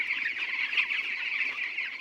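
Chickens clucking on a raised platform built over a fish pond, a steady, fairly quiet chorus of overlapping bird calls running throughout with no pauses.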